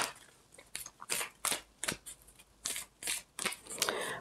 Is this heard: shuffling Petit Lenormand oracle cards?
yes